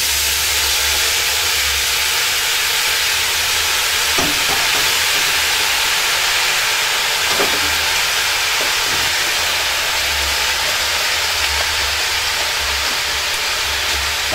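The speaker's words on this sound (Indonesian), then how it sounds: "saya langsung memasukkan kangkung pada minyak yang sudah panas" Loud, steady sizzling of water spinach frying in hot oil, with occasional soft stirring clatters and no talking.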